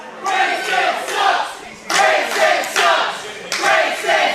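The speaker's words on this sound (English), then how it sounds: "Crowd says Grayson sucks." A wrestling crowd chants in unison during a match involving Grayson Pierce, loud rhythmic bursts of voices repeating about every second and a half, rising and falling in a steady pattern.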